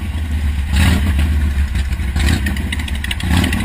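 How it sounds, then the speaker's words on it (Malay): A motorcycle engine runs close by, with a steady low rumble and some clatter as the bike starts to move off slowly at night. "Waktu malam ni kira tengah hidup ke enjin,"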